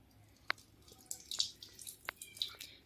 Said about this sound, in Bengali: এটা আবার জল ঝরাতে দেবো